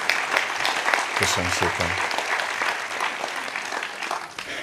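Audience at the handover of a renovated outdoor theatre stage in Tihany clapping: a full, steady round of applause from a crowd, with someone briefly speaking a short thanks over it early on.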